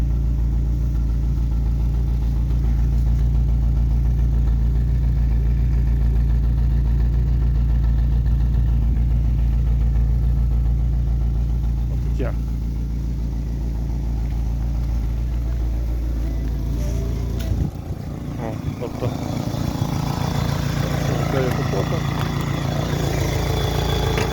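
A 2005 Daewoo Lanos SE T150 engine idling with a steady low exhaust rumble, close and continuous, shifting to rougher mechanical noise near the end.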